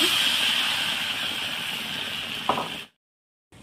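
Bread pakora fries in hot oil in a wok, a steady close-up sizzling hiss with a small clink near the end before the sound cuts out abruptly.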